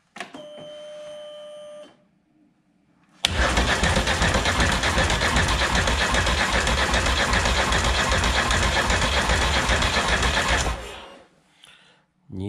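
Polaris ATV engine cranking on the starter during a compression test, a loud, steady whirring churn lasting several seconds after a brief higher whine, then stopping abruptly.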